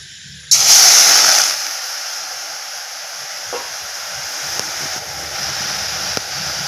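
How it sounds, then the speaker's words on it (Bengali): A splash of water hits a hot kadai on a gas stove, bursting into a loud, sharp hiss that fades after about a second into a softer, steady steaming sizzle with a few faint clicks. "কড়াতে আমি হালকা অল্প একটু জল দিয়ে দেবো"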